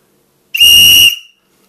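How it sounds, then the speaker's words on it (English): A very loud safety whistle gives one short, piercing shrill blast of about half a second, close to the listener, then quickly decays into silence. "it's the world's loudest whistle. I'll give you a little test."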